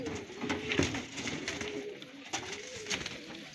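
Pigeons in a loft coo in low, repeated rolling calls close by, with faint rustling and a steady background hiss, no talking.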